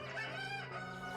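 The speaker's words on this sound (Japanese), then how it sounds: "もう2番鳥も泣いちゃいましたよ。" A rooster crows once as a sound effect in an audio drama: a close, clear, drawn-out cock-a-doodle-doo heard alone with no talk.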